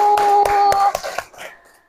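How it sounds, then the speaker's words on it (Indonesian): A classroom of students claps for a student group, a short burst of a few loud, uneven hand claps that quickly thin out and stop, with a steady electronic tone underneath at the start. "Beri tepuk tangan untuk kelompok"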